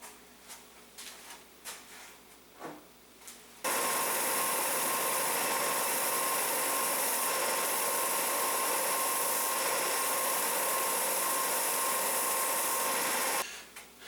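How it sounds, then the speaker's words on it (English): A rubber cleaning stick rubs against sandpaper on a running power sander, making a loud, continuous grinding roar for about ten seconds. A few quieter taps and handling sounds come before it, and it cuts off abruptly near the end. "you want to get that rubber stick. It's made for cleaning sandpaper."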